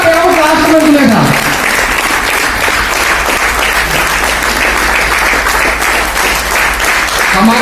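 A large audience at a seminar-style gathering claps loudly and continuously for several seconds, a dense wash of applause that follows a brief spoken line and runs to the end.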